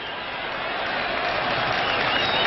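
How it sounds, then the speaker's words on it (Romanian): Steady broadband roar of a football stadium crowd applauding at a 1987 Romania versus Spain Euro-88 qualifier, dense and sustained with no gaps, swelling slightly louder toward the end. "Aplauze pentru echipa noastră, stimați telespectatori"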